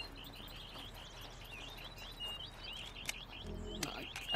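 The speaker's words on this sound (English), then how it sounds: "the birds are real loud in my ear right now" Birds chirp in the video game Yonder: The Cloud Catcher Chronicles, with repeated bright, quick tweets layered over a soft ambient bed, and a few louder thumps and rustles near the end.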